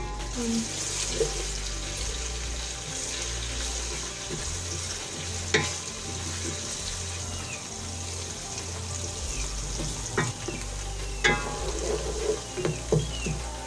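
Onions fry in a pan for a chicken, cauliflower and spinach curry, giving a steady crackling sizzle with a few sharp clicks and stirring knocks near the end, and no talking.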